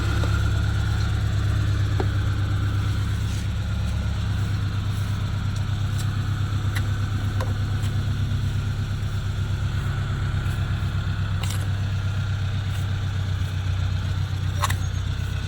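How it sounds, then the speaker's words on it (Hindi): A truck engine runs steadily at idle with a misfire, a loud low drone broken by uneven cracking pops scattered through it, with no voices. "ये मिसिंग भी मार दी है। फटी फटी आवाज़ हो रही है गाड़ी की।"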